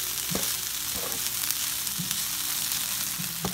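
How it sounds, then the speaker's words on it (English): Egg and rice stir-frying in a pan for vegetable fried rice: a steady close sizzle with repeated scraping stirs of the spatula, no talking. "I'm gonna go ahead and mix my egg in with the rice."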